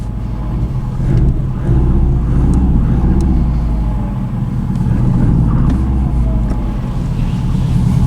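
Subaru WRX wagon with a six-puck clutch out on a test drive, its engine a steady loud low rumble with road and drivetrain noise throughout, no talk.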